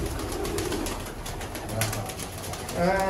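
Khaki pigeons coo softly at close range amid rustling and faint background noise, with a brief louder bird call near the end.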